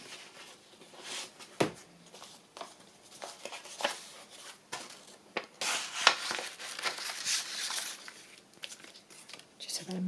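Paper is crinkled, rubbed and handled at close range on a crafting table during work on an altered book, with scattered soft taps and rustles throughout.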